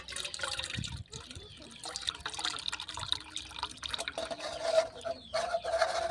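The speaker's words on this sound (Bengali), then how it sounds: "এই ছাঁকুনি দিয়ে আমি ছেঁকে নেব।" Warm homemade silk cotton flower dye strained through a large sieve, with close trickling and dripping liquid, some light handling knocks, and a voice speaking intermittently over it.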